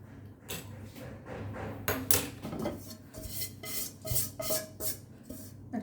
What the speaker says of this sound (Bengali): একটা চুলাতে ফ্রাই প্যান বসিয়ে দিলাম